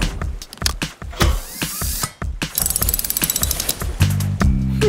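Cartoon wrench ratcheting during a helicopter tail rotor repair in a children's garage cartoon, quick rapid clicking bursts mixed with clanks and bright sparkly effects, loud and busy with no talk.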